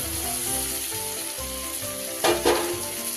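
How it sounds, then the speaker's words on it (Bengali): Fried potato and eggplant go into a tangra fish curry cooking on low gas, a steady close oil sizzle with a brief louder hiss as the pieces land in the pan. "এবার আমি এর উপরে ভেজে রাখা আলু বেগুনটা দিই।"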